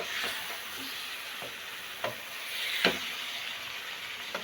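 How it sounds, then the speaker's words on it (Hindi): Boiled mixed vegetables gently stirred in a cooking pot: a few soft, faint scraping touches rise over a steady background hiss, without any voices. "अब हम इसे नरम हाथों के साथ आहिस्ता आहिस्ता इसको मिक्स कर देंगे।"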